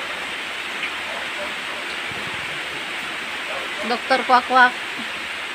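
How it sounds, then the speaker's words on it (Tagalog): Steady rain pours down outside a darkened house, a constant dense wash of hiss throughout, with a few brief voices chattering near the end. "naulan-ulan eh"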